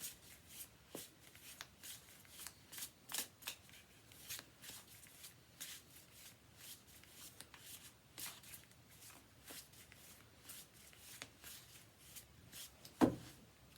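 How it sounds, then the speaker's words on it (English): Tarot cards shuffled by hand in repeated soft riffling bursts, close up, with a brief sharp knock near the end; no talking. "I'll just give them a little bit more of a shuffle"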